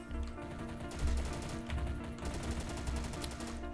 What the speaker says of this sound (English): It's the Americans taking aim and firing at the Europeans here.